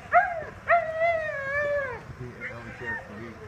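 A dog howls and whimpers outdoors at a ski area, giving two rising wavering cries near the start and then softer whines, while people talk quietly underneath.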